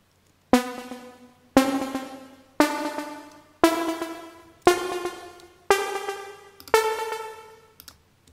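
Squelchy bass synth from Logic Pro with its resonance tweaked plays seven evenly spaced, bright plucked notes about a second apart, each with a sharp attack and decaying tail, alone and fairly clear.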